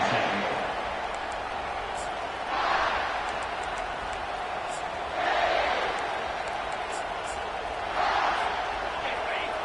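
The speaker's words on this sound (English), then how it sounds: "This crowd bringing an ear-splitting welcome to their visitors." A stadium crowd in the Madden football video game cheers in rhythmic swells that rise and fall about every three seconds, a steady roar that sits under the game's commentary.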